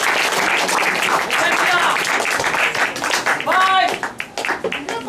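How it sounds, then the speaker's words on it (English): Steady applause from a debate audience, continuous and fairly loud, with a voice speaking over it near the end. "Come on, clap, guys."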